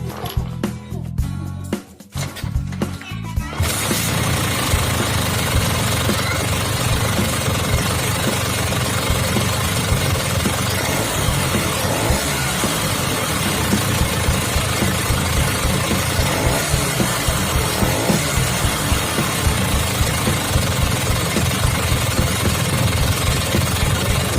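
A Vespa scooter with newly wired Mio ignition starts after a few rough seconds and then runs at a steady, loud, close engine rumble that lasts the rest of the clip.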